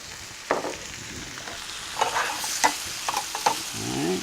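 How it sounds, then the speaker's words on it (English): Bacon and cabbage frying in a pan as about an ounce of vinegar goes in, giving a steady sizzle broken by several sharp hissing bursts and stirring scrapes, close and moderately loud with no talk. "So I'm going to add some vinegar."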